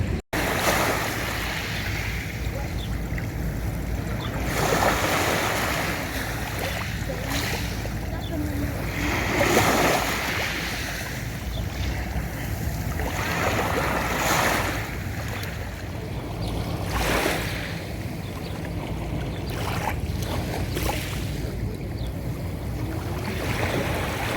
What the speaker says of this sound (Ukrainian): паром, напевно, на корфу їде